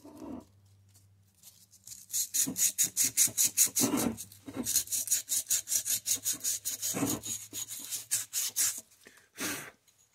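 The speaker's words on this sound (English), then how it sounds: "So let's get that rust out of there. Maybe just some sandpaper." Sandpaper rubs rust off the PTO bearing seat of a Cub Cadet 1882 garden tractor in fast, rhythmic back-and-forth strokes, a raspy scraping that runs in steady bursts with a brief pause, close and without speech.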